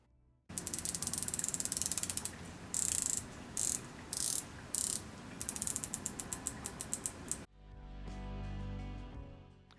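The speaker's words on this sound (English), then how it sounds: "let's listen to that bezel." The rotating bezel on a Seiko NH38 mod Pepsi GMT watch ratchets in rapid crisp clicks, close and loud, in several bursts with short pauses, followed by a softer mechanical rustle at the end.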